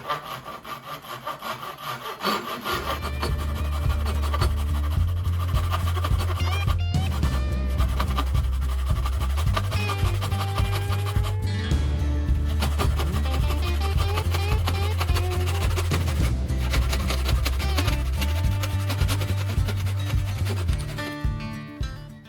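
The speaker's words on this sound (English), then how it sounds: "you can finish this with a Shinto rasp" A Shinto rasp files a wooden axe handle in fast, rhythmic strokes, a loud coarse rasping that runs continuously for about twenty seconds before stopping.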